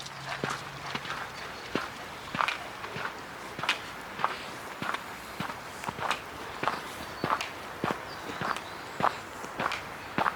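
Footsteps of people walking outdoors on a park path, a steady rhythm of crisp close steps over faint ambient noise.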